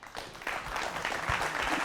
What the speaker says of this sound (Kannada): ನಿಮ್ಮೆಲ್ಲರಿಗೂ ನನ್ನ ಕಡೆಯಿಂದ ಒಂದು ಚಪ್ಪಾಳೆ